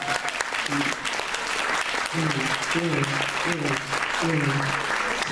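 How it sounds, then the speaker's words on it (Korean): Audience applause at a gathering of overseas Korean nurses, continuous crowd clapping while a person keeps speaking over it. "박수 좀 쳐주세요"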